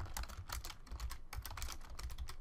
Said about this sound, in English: if I type in slash accept rules